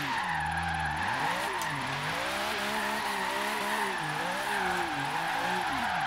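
Mid-engine car drifting in the Forza Horizon 3 racing game, engine droning and revving in rising and falling sweeps while tires squeal continuously, loud and close.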